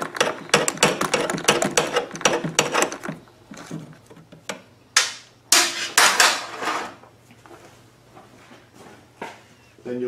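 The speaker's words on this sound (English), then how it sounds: "take an 8mm socket and remove this bolt" An 8mm socket ratchet removes a bolt from the top of a starter motor for a choke installation, giving rapid, close, repeated clicking bursts, then a few sharper separate clicks and knocks, alone without talk.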